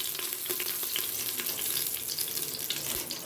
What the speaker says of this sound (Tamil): இது எல்லாத்தையும் கொஞ்சம் ஃப்ரை பண்ணி எடுத்துக்கலாம்.